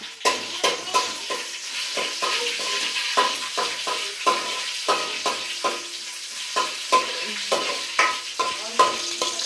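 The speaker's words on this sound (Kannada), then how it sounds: "ಮೆಣಸಿನ್ಕಾಯಿನ ಈ ರೀತಿ ಎಣ್ಣೆನಲ್ಲೇ ಹಾಕಿ ಫ್ರೈ ಮಾಡೋದ್ರಿಂದ ಖಾರ ಬಿಡುತ್ತೆ" Green chillies fry in hot oil in a pan while preparing vegetable shavige bath, giving a steady sizzle broken by regular scraping clinks of a stirring spoon, close and fairly loud, with no talking.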